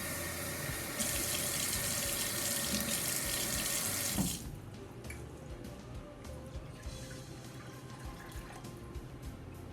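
A kitchen tap runs loudly to fill a cup with cold water, a dense rushing splash that cuts off after about four seconds, leaving quieter drips and handling noises.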